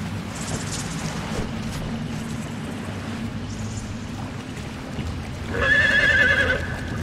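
A horse whinnies near the end in the video game Conan Exiles, a bright wavering neigh rising over a steady low rumbling background of game ambience.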